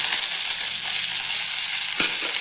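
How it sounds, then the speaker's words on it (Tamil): Chopped mango leaves go into hot oil in a pan for a chutney and crackle in a close, steady sizzle, with a single sharp scrape of a stirring spoon near the end. "நம்ம இதுலேயே இலையும் போட்டு நல்லா வறுத்துக்கலாங்க"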